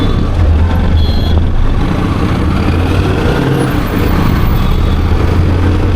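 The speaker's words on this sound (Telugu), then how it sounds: "మొత్తం బ్యాక్గ్రౌండ్ బస్సుల సౌండ్, కార్ల సౌండ్ ఇదే వినిపించు" Heavy traffic on the Mumbai highway, with lorries, buses and cars, roars past a riding motorcycle: loud, constant low rumble and wind buffeting with no pauses.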